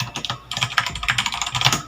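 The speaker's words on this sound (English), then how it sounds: "it's a bit hard to press compared to the blue one, and I could really feel it when I type" Typing on an HP GK100 mechanical keyboard with stiff, membrane-like keys: a quick, uneven run of close, crisp key clacks, alone with no talking.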